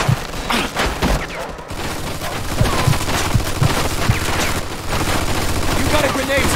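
Machine gun fire in Mafia II comes as loud, rapid bursts with scattered heavier shots. It runs through the whole stretch, with a voice shouting over parts of it.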